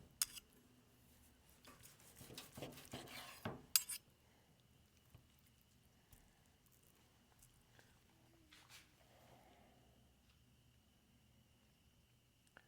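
A knife and fork working into a grilled steak on a plate, with a burst of close clinks and scraping cutlery for a few seconds, then near silence with faint occasional taps.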